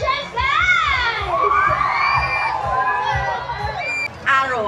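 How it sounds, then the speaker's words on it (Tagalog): A large outdoor crowd at a packed town event in Bayambang cheers and shouts continuously, with children's high-pitched yells rising over the roar. "let's hear it from our spectacular crowd here"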